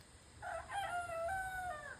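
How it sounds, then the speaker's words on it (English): A young rooster in a backyard coop converted from a shed crows once, a clear drawn-out call heard from a short distance over faint background hiss. "I will put a clip of him crowing on screen right now."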